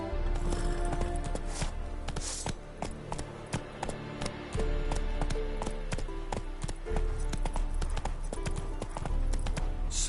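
Roach the horse galloping in a video game, a rapid, continuous clip-clop of hooves close up, with game music and occasional taps running underneath.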